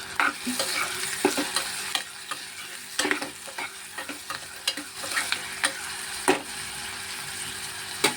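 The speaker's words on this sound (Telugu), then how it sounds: "ఉల్లిపాయలు వేసుకొని ఫ్రై చేసుకుందాం బాగా కరివేపాకు కూడా వేసాను" Onions and curry leaves fry in hot oil in a pan, giving a steady close sizzle broken by repeated spatula scrapes and taps.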